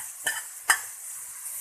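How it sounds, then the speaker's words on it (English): Ginger garlic paste and tomato frying in a pan for bisi bele bath, a soft continuous sizzle broken by two sharp spoon scrapes against the pan, close and without speech. "Now I am adding 1 spoon of ginger garlic paste."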